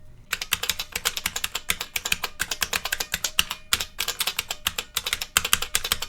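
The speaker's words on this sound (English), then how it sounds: "And here is a typing test after adjusting all the springs." Typing on an IBM Model F keyboard after its springs have been adjusted, a fast, loud run of crisp buckling-spring clicks and clacks with brief pauses between bursts.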